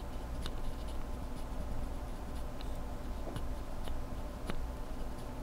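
A Novelkeys Cream keyboard switch lubed with Chinese grease gives a few sparse, soft ticks and clicks, spread out over a steady hissy background, no talking.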